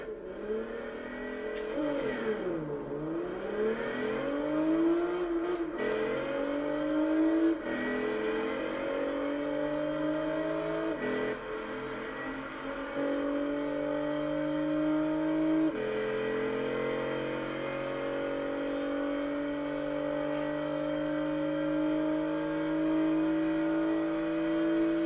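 A Volkswagen Golf IV R32 with its V6 engine revs and accelerates in Gran Turismo 6, rising through gears with repeated upshifts in a continuous, loud engine drone and no talk over it.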